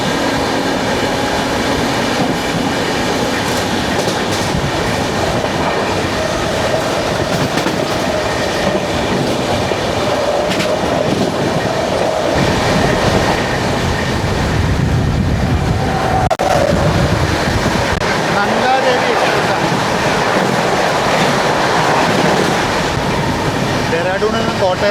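Rajdhani Express 12431 train heard from inside a First AC coach, with a steady rumble and rhythmic clatter of wheels on the rails throughout, growing louder in the second half.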